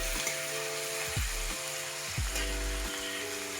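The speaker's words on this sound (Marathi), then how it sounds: "टोमॅटो कांदा परतण्यासाठी ठेवलेला आहे" Tomato and onion sautéing in a pan for a village-style drumstick curry, with a steady broadband sizzle and a few stirring scrapes, close and alone with no talk.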